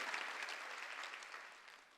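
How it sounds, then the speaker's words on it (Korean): A church congregation at a Wednesday worship service breaks into sustained, dense applause that fills the whole moment at fairly low level, fading only slightly toward the end, with no speech over it. "박수 치라"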